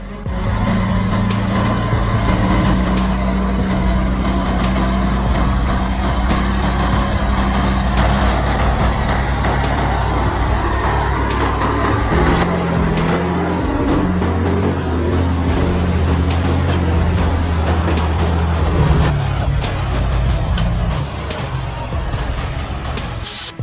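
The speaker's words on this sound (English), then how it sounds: "The process of transporting massive amounts of timber from deep forests to the city using heavy-duty trucks is impressive." Heavy-duty timber trucks haul loads along uneven forest dirt roads, a steady loud low engine drone and rumble running throughout with gear and load noise, no talk.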